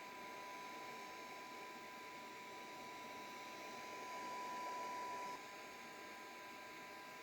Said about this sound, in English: you just let the heat build up and then you start to move the heat gun